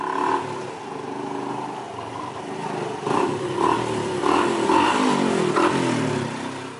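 A motorcycle out on a test ride after its chain has been cleaned, the engine humming steadily and rising in a few revving surges, heard close and loud with no talk.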